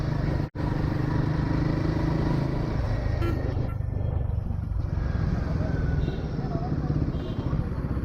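A Royal Enfield Guerrilla 450 motorcycle engine rumbles steadily up close while riding around town, a continuous loud throbbing drone with wind noise and a brief cutout near the start.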